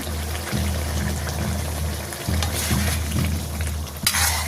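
A village-style curry fries in a pan after roasted ground cumin paste goes in: a loud, continuous sizzle with bursts of stirring and scraping, then a sharper hiss near the end.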